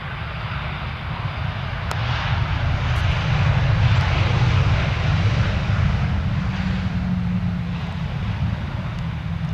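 Airliner landing at London Stansted Airport, a loud sustained engine roar and rumble that swells to a peak midway and then eases slightly, heard alone without voices.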